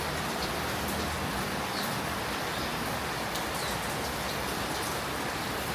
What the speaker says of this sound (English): It is rainy and gloomy today,